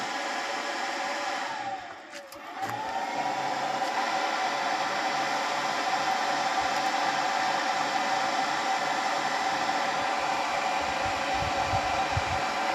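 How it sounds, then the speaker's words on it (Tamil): A 7.5 hp AC/DC solar pump motor drive runs with a steady, loud whirring hum and a faint tonal whine, dipping briefly early on before settling into a constant drone with no talk. "எம்சிபி ஆன் பண்ணிட்டோம், உங்களுக்கு டிரைவ் ஆன் ஆயிரும்."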